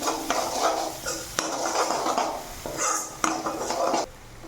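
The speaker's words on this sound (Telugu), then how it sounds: "తర్వాత తగినంత ఉప్పు, కొద్దిగా పసుపు వేసి బాగా కలపాలి." A spoon stirs fried golden onions with green chilies, salt and turmeric in a pan for pasta, making close clattering scrapes against the metal in uneven bursts with no one speaking.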